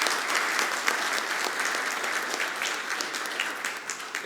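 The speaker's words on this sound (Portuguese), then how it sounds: "eu peço uma salva de palmas" Steady applause from an audience at a court ceremony honouring the president of the Paraná state Court of Justice, dense continuous clapping from many hands in a hall, fairly loud and unbroken.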